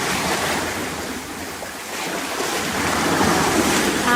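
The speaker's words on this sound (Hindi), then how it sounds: "बाप रे, कितनी बड़ी लहर।" Big ocean waves at the sea: a loud, broad wash of surf with rising and falling rolls of water and some wind noise, heard close and without talking.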